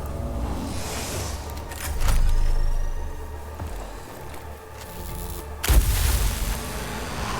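Heavy weapon fire in the Warhammer 40,000: Mechanicus video game booms out in a couple of loud, rumbling blasts over a dense low background, with a sharp burst near the end.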